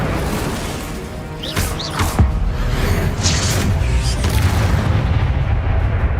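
A dense, loud burst of spell effects from the Incendio fire spell in Hogwarts Legacy, booming and crackling over a continuous roar of game action, with sharp hits around the second mark before settling into a sustained blazing rumble.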